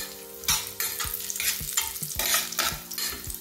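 Raisins fried in ghee while being stirred, a steady close sizzle broken by repeated scraping strokes of the spoon against the pan, several in a row at an uneven rhythm.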